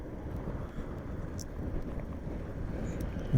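Steady rumbling wind buffets the microphone on a motorcycle tour in Haramosh Valley, a continuous low roar with no clear voices.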